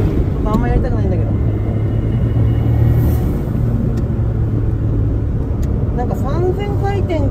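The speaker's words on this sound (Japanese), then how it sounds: "これね、5000回転からすごい加速する。" Suzuki Alto Works CA72V, first-generation, with worn-out suspension, engine revving hard and accelerating at high rpm; a steady loud rumbling drone carries through the whole stretch, close and continuous, with a voice talking over it.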